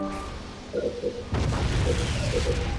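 A base blowing up in the real-time strategy game Halo Wars, with a sudden loud boom that swells into a sustained rumbling blast over faint tonal game music.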